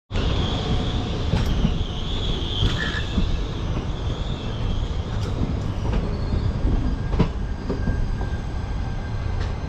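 The Mangalore Central to Lokmanya Tilak train rolls past at close range, a loud continuous rumble of wheels and carriages with faint rail squeals and clicks throughout, without talk.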